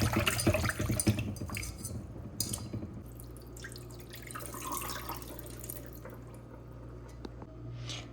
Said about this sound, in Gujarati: હવે એનો તે પાણીથી વોશ કરી દઈશ,